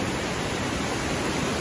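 Unbroken, loud broadband roar of Westmorland Falls running with heavy water flow, steady and close with no speech.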